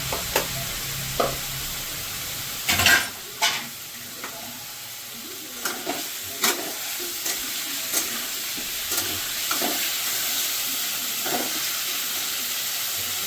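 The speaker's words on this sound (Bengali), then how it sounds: "এবার পেঁয়াজটা হালকা ভাজা হয়ে গেলে মশলাটা দেবো।" Onion paste fries with a soft, steady sizzle in a pan while a spoon scrapes and stirs it in scattered clicks and knocks. It stays fairly quiet throughout, with no voices.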